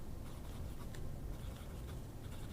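An Aurora Ypsilon fountain pen with a broad number 5 steel nib scratches across paper in close, soft, continuous strokes.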